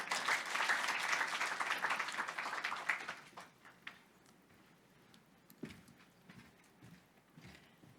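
At a business forum, an audience gives a speaker a welcoming round of applause: full, lively clapping for about three seconds that quickly dies away, followed by scattered footsteps and light knocks.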